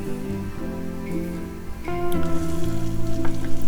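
Onion sautéing in a pan with very little oil and egg, a steady close sizzle that thickens and grows louder partway through, with no talking.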